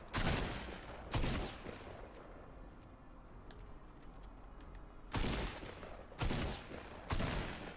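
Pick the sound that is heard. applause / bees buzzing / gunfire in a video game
gunfire in a video game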